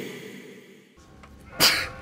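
One sharp sneeze bursts out near the end after a quiet stretch, close and fairly loud.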